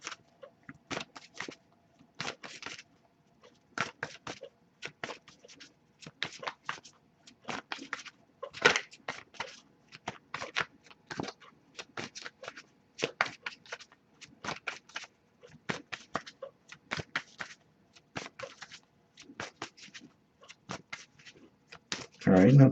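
Tarot cards are shuffled by hand in repeated short riffling bursts with brief pauses between, close and crisp, continuing steadily with no talking.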